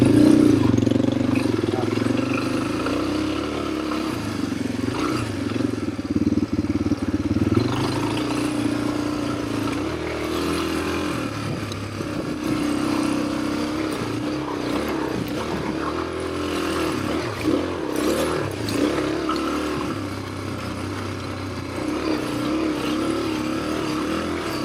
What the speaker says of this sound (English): So when you're in second gear, it just revs out quicker.